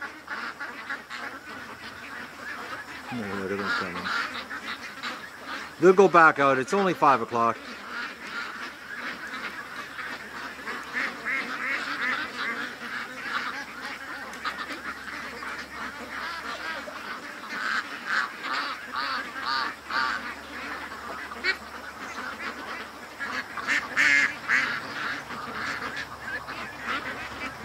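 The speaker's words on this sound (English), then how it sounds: "we've got an exodus of Doug's, exodus of ducks coming home now" Ducks coming home in a group give repeated honking quacks, loud and close early on and then continuing in scattered bursts over a rural yard, with someone talking occasionally.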